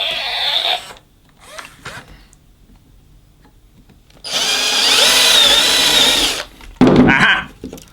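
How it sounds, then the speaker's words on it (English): A power drill whirs into a Squeakee red balloon dog toy in a sustained burst of about two seconds, then a shorter spurt follows, with quiet handling noises in the gaps before. "I might try and drill it out."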